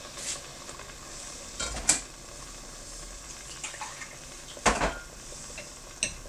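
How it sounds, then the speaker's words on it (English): Water runs and splashes as a blender jar is rinsed and refilled while cooking egusi stew, a steady wet rush with a few sharper clinks and knocks, close and without speech. "Now I'm just going to rinse the blender and add the water there."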